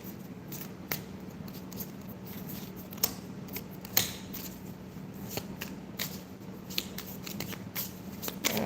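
Tarot cards being shuffled during a live reading, soft continuous riffling and sliding of cards with sharp snaps and taps scattered throughout, close and quiet, with no talking.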